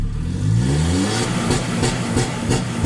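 A car engine is floored against a 3500 rpm launch-control limit. It climbs quickly, then holds a loud, close, pulsing drone with rhythmic limiter bursts, and no one speaks.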